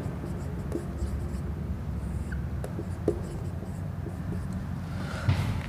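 Chalk or marker writing on a board during a Sanskrit grammar lesson in a classroom, soft continuous scratchy strokes with a few light taps, moderately quiet with a low background hum and no talk.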